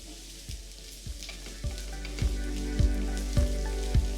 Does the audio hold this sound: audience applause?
no